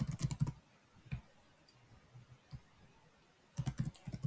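Bursts of laptop keyboard typing come at the start and again near the end, close and moderately loud, with a few isolated clicks in the quiet stretch between.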